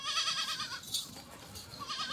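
Goat in a livestock shed bleating in a short wavering cry, fairly close, with faint farm background and no talk.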